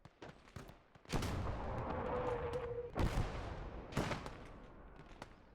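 Several rifle grenade explosions in Gates of Hell, a World War II multiplayer battle game, boom out one after another amid continuous gunfire and rumbling battlefield noise, with one big blast near the middle and more following.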